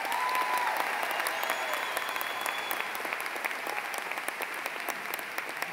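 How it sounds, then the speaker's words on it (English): An audience at a high school commencement applauds the graduating seniors, sustained dense clapping that holds steady and thins slightly toward the end, with faint crowd murmur underneath. "I want everybody right now to give them a thunderous round of applause"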